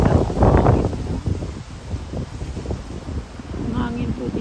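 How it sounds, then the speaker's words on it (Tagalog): Gusty outdoor wind buffets the microphone in uneven bursts, loud at first and easing off, at a Nissan dealership with a waiting area; a voice speaks briefly over the rushing air. "Ang hangin po dito."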